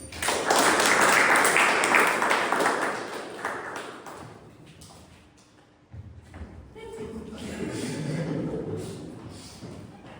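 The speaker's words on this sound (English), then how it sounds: "Toastmaster Keshwar, big round of applause." Audience at a Toastmasters club meeting claps in a loud burst that fades over a few seconds, then another softer round of applause rises and continues.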